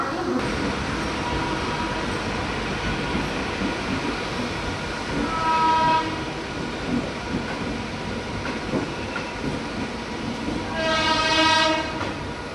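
Local train at Dombivli station in the early morning: steady rumble of the train with two loud horn blasts, one midway and another near the end, and faint voices in the background.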